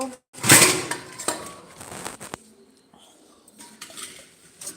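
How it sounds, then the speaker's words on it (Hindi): Utensils, pots and pans clatter loudly in a home kitchen, with sharp metallic clanks and scraping in an uneven burst that trails off into softer, scattered knocks. "बर्तन की आवाज़ ज़ोर से आ रही है।"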